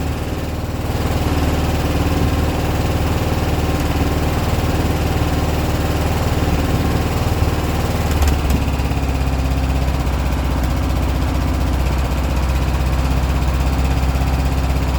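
A small, cheap lawnmower engine idles steadily and loudly nearby while warming up, a constant rumbling drone with no talking.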